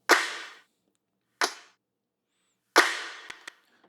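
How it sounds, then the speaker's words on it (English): Three bright layered snare hits built from stacked claps in an electronic track, each a sharp broadband crack with a short decaying tail, spaced apart and heard alone, the last followed by a couple of small ticks. "And then on that snare, I've got a bunch of, like, I've got a lot of claps layered."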